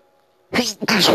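A single sneeze bursts out after a moment of near silence, sharp and close, followed by a short second gasp of breath, at a launch party.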